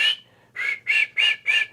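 Imitated kiki run, the whistle of a young turkey, made by a person: one high whistled note, a short pause, then four evenly spaced clear whistles in a quick rhythm, close and alone.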